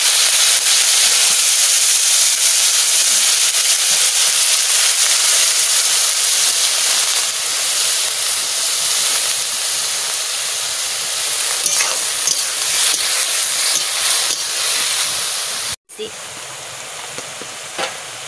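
Garlic with bitter gourd and potato frying in hot oil gives a steady, loud, broadband sizzle that runs almost unbroken, then cuts off briefly and resumes softer.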